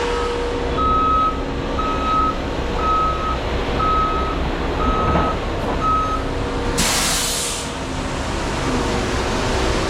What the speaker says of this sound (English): We'll just back this truck on here, get some mud in the hopper